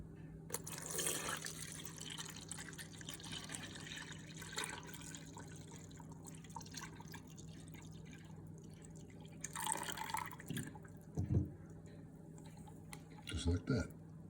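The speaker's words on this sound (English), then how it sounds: "look in here and pour water in." Water trickles and drips into a coffee maker's reservoir at moderate volume, with a person speaking quietly over it and a few clunks near the end.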